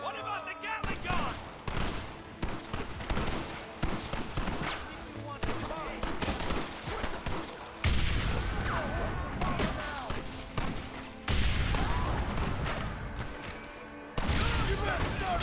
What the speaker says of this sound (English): Marston, what about the Gatling gun?